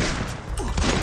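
Dense burst of gunfire in the Free Fire shooter game, loud rapid overlapping shots filling about a second, with a voice briefly audible underneath.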